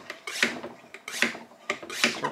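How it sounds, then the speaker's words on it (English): A hand pump pushing oil into the oil system of a Ford Modular Cobra engine, three rhythmic rasping strokes close by, each a rising then falling squeaky rush, evenly spaced with no talking. "Start pumping some oil in there."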